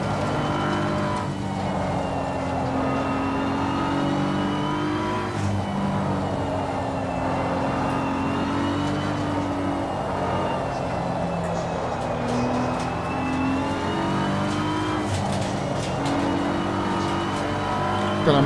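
Race car in the Assetto Corsa Competizione racing game, engine droning and revving through gear changes under acceleration with other cars nearby, a continuous loud engine tone throughout.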